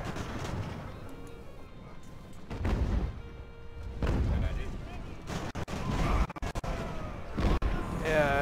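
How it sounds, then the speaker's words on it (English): A coastal gun fires during a siege battle in Ultimate Admiral: Age of Sail, heard as several heavy booms and thuds amid scattered musket and cannon fire, with someone talking over the battle. "they got a coastal gun shooting"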